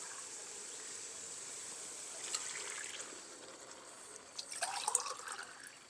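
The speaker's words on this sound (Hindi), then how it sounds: "इनके अंदर अब हम 3 गिलास पानी शामिल करेंगे" Water is poured into rice and peas for a matar pulao in a village kitchen, a faint trickling and dripping that builds into a brief splashing patter against a quiet background hiss.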